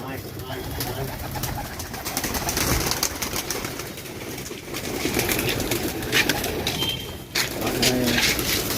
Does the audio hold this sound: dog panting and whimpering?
no